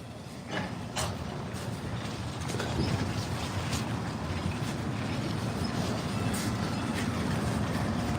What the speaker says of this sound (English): This is the rescue train.